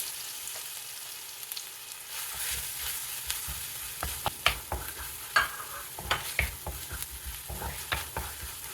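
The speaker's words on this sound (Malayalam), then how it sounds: "ഇനി നമ്മൾ നേരത്തെ കായം മൂപ്പിച്ച ആ സെയിം എണ്ണയിലേക്ക് തന്നെ ഇഞ്ചി വെളുത്തുള്ളി ചതച്ചത് ചേർത്ത് കൊടുക്കാം" Crushed ginger and garlic hit hot oil already used for frying asafoetida, giving a close, steady sizzle with repeated sharp scrapes and knocks of a stirring spoon against the pan, no voices.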